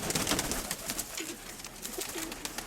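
A pigeon coos in soft, low repeated calls close by, over a faint background hiss of outdoor noise.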